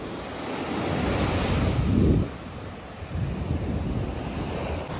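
Ocean surf at Odayam beach in Varkala, Kerala, washes in a steady roar with one louder breaking wave near the middle, and wind buffets the microphone throughout.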